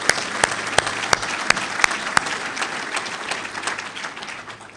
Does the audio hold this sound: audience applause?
yes